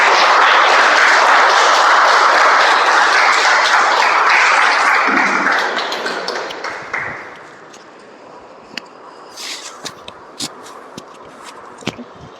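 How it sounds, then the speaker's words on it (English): A large room of people gives a Toastmasters meeting's Toastmaster a big round of applause, dense and loud for several seconds before tapering off into scattered claps and a few sharp isolated handclaps. "let's welcome Nibi, our Toastmaster Nibi, with a huge round of applause"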